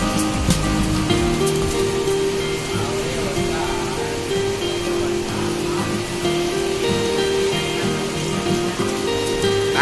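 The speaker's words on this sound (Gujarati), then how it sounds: "અત્યારે અમદાવાદમાં ધોધમાર વરસાદ ચાલી રહ્યો છે." Heavy rain pours down in Ahmedabad as a dense, continuous roar of water, steady and loud, with a faint low hum running beneath it.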